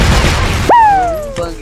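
A grenade explodes in a video game with a sharp, loud boom and a ringing descending tone, preceded by a person shouting.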